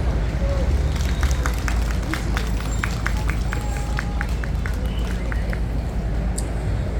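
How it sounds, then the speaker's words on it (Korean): A large crowd claps to welcome a speaker at an outdoor Buddhist dharma assembly calling for Yoon Suk Yeol's resignation; steady broadband crowd noise carries a run of distinct, fairly regular claps throughout. "덕암 박종린 법사님을 힘찬 박수로 맞아주시길 바랍니다."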